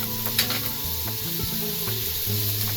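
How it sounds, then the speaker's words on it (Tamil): Large onions sizzle in a pan for Malabar chicken biryani, a continuous close frying hiss with faint stirring scrapes and a small clink, heard alone at moderate volume. "ஒரு 10 நிமிஷம் வெங்காயம் நல்லா வதங்கினா போதும்."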